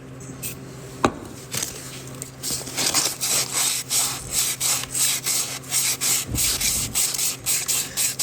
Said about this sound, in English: And wet sanding here is probably a fine idea.